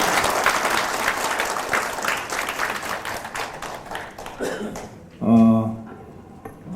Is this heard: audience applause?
yes